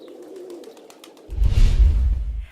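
Pigeons cooing, a soft low coo at first followed by a louder, deeper burst of cooing close to the listener.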